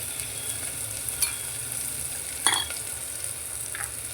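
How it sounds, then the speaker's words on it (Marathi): Chopped onion sautés in a pan with ginger-garlic paste while it browns. There is a soft, steady sizzle and three brief spoon scrapes against the pan. "थोडा कांदा आंबट परतून घेऊया, थोडा लाल होईपर्यंत."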